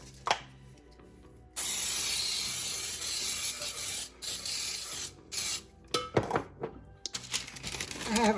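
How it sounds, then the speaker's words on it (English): A sustained hiss of Baker's Joy cooking spray on a baking pan lasting a few seconds, followed by light clatter and thunks of handling the pan, close up. "we are going to start by lightly spraying to begin with our pan with Baker's"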